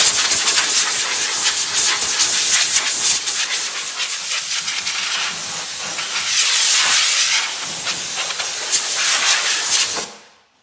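Degreaser sprayed onto the sanded bodywork of a Vauxhall Astra Exclusive CDTI estate: a loud, continuous close hiss that carries on for about ten seconds, then stops abruptly, with no talk.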